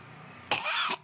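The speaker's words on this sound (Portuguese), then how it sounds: "essa tosse me aperreia" An elderly woman coughing, one harsh, close cough followed by a brief second burst, in a quiet room.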